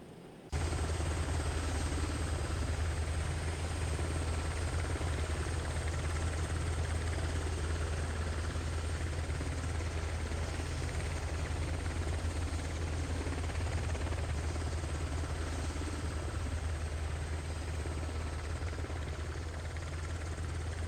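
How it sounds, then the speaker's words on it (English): A military helicopter on a stormy night after troops fast-rope out, a constant loud rotor and engine roar that starts abruptly and holds steady throughout, with no talk. "Wait out for the helo to fully move out of the position before we start moving."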